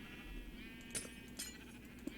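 Sheep bleating in Minecraft, with a few short bleats over steady background game sound.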